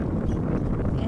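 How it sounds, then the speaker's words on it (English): Low, rumbling gusts of wind at about ten miles an hour buffet an outdoor microphone beside a container garden, a dense, steady blustering that fills the whole moment. "it's a little windy today."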